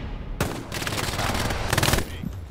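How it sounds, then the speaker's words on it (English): An MG42 machine gun fires in Hell Let Loose, loud rapid sustained bursts of automatic gunfire close by, rattling continuously for over a second with a brief pause between volleys. "I continued to fire towards that enemy garrison until they caught on to my position"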